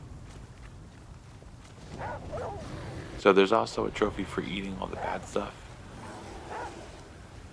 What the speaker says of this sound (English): that's the bear growling at us now